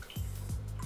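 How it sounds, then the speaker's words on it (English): Potassium iodide solution trickles into mercury chloride with a steady liquid pour and a few low, bubbly drip-like plops at regular intervals. "Pouring a little bit."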